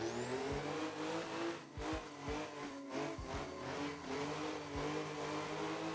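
A drifting car in the Assetto Corsa video game, its engine held under feathered throttle, revving rises and dips in a continuous smooth drone with brief low stutters as the throttle is eased on and off through a corner.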